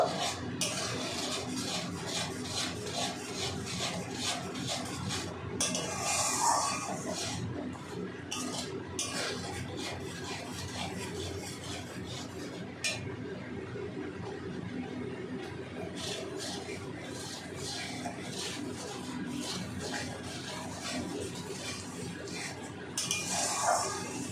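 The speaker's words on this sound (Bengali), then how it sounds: "এবার সম্পূর্ণ মশলাটাকে ভালো করে কষিয়ে নেব।" Spice masala for mustard hilsa being stirred and fried in a pan, with steady clinks and scrapes of a spoon against metal over a continuous sizzle, close and fairly loud throughout.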